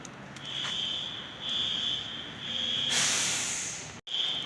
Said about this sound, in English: The fire alarm is still going off.